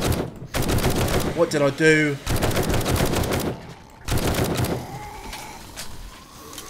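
Gunfire from firearms in 7 Days to Die, with rapid sharp shots in short bursts mixed with someone talking excitedly, then fading into quieter ambient noise.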